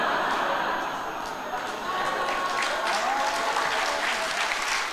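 An audience at a lecture on the KOSPI stock market claps for several seconds, a dense continuous wash of applause that dips slightly midway and then swells again, with faint voices mixed beneath it.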